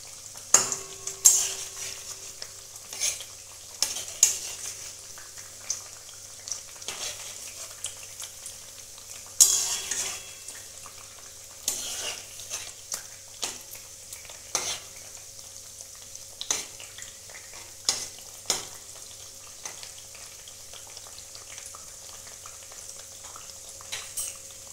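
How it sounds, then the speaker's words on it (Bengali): Nimki, a Bengali fried snack, frying on low heat, a gentle steady sizzle broken by scattered clinks and stirring knocks of a utensil against the pan, with no talk. "এই নিমকিগুলো এই কম আঁচেই ভাজতে হবে।"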